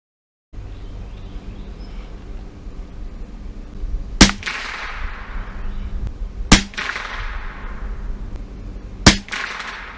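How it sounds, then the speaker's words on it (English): Three sharp rifle shots are fired through iron sights at an outdoor target. Each crack is loud and close, spaced a few seconds apart, with a decaying echo trailing off over quiet background. "we're gonna take some shots with the iron sights"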